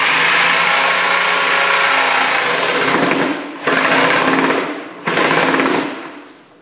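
A sewing machine stitches a boat cushion for a Sea Ray Sundancer coaming bolster, running loud and close in a steady mechanical whir, stopping briefly twice and starting again.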